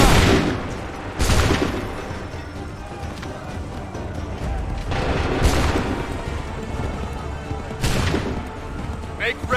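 Musket volleys crack out in Assassin's Creed 3 Remastered, several loud broadband blasts spaced a few seconds apart over a busy battlefield din, with shouted commands in between.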